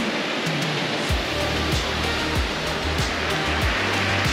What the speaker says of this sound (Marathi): हा आहे चिवला बीच.